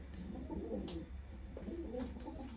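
Soft, low cooing from a young, healthy long face pigeon hen, a few gentle coos repeated close by over a steady low background murmur, with no talk.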